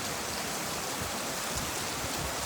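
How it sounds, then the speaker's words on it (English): Steady rain falls on a farm in the evening, an even, continuous wash of drops with soft low patter throughout and no voices. "A lovely evening, listening to the raindrops"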